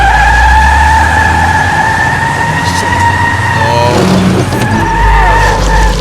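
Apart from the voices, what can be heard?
car skidding in video game The Wolf Among Us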